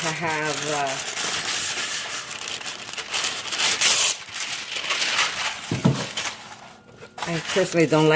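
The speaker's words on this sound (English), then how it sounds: "So I'm going to first wrap it in some parchment paper." Food is wrapped in parchment paper for steaming: crinkly rubbing and rustling of the paper runs through the middle stretch, with a voice talking at the start and again near the end.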